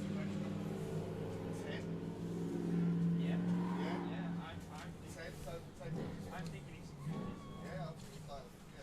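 A Mazda RX-8 drift car revs hard on a track at a British drift championship, a buzzing, wavering engine wail that rises and falls under steady commentary.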